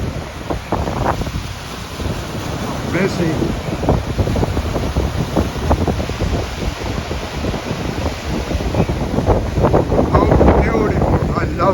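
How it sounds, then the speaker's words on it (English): Heavy surf pounds a rocky shore at high tide in Bandra in a continuous roar, with strong wind buffeting the microphone and a voice speaking briefly over it. "You can see the huge waves crashing against this rocky shoreline."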